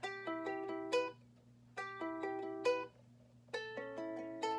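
Ukulele playing a song's intro, picked notes mixed with strummed chords in three repeating phrases, clear and close, quiet and without voices.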